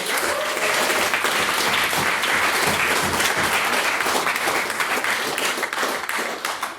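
A large debate audience applauds loudly and continuously after a speech, dense clapping filling the whole stretch without pause.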